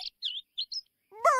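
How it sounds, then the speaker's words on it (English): A bird gives a few short, bright chirps in quick succession, clear and fairly close, followed by a brief upward-sweeping call at the end. "Bird."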